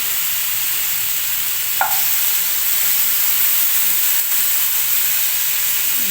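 Oil hisses and sizzles steadily in a hot pan holding half a kilo of chicken for a dry fry, with a brief sharper crackle near the start and a continuous broad frying hiss throughout.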